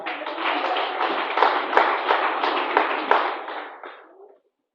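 A church audience applauds in a steady, dense patter of many hands that keeps going for several seconds, then gradually fades away to silence.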